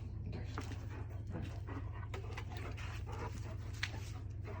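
A dog whimpers and pants softly in short bursts beside a van, over a steady low engine-like hum, fairly faint and nearby.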